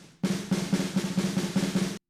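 A programmed drum roll sample from the Modern and Massive library by Get Good Drums, used for pop-punk, rattles in fast, evenly pulsing accented strokes for under two seconds, moderately quiet and alone.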